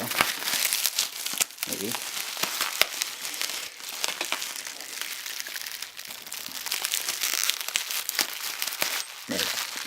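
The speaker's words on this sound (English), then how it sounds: "I can get this tape undone." Packing tape is pulled and peeled off a box during an unboxing, giving close crinkling, rustling and tearing sounds throughout, with brief speech.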